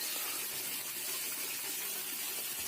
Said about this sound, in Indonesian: Aya suara keran hurung.